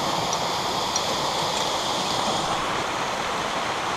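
Rushing water at San Antonio Falls, a steady broadband roar of falling and churning water, loud and even throughout with no breaks and no voices.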